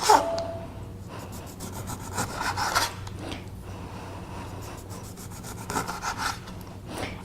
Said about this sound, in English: So just cut really thin slices. Again, the joys of cutting with a sharp knife.